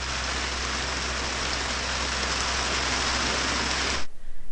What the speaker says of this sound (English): The rain is actually really calming when it's not too scary and powerful.